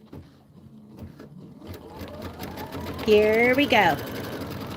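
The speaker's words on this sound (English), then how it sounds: "Go ahead and start. Do a little bit of stitching," An Aveneer Lumina sewing machine stitching quilt sashing starts slowly and builds to a steady, fast whirring hum with a rising motor whine, while a person speaks briefly over it.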